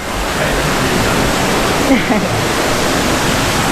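A waterfall in the mountain village of Mae Kampong, Thailand, roars as a loud, steady, unbroken rush of water heard from a room's balcony, with no break across the whole stretch.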